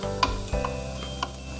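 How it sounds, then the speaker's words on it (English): Garlic sizzling in butter in a pan for a spinach pasta, with a soft steady sizzle and a few brief utensil stirring clicks over a faint, even background. "i-cook lang natin siya ng mga 1 to 2 minutes siguro or basta maduto lang yung garlic."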